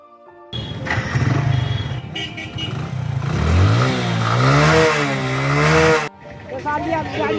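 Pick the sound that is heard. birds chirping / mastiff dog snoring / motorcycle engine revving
motorcycle engine revving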